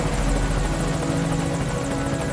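Helicopter in the video game Metal Gear Solid V: Ground Zeroes, its rotor thumping loudly and steadily with a continuous engine drone throughout.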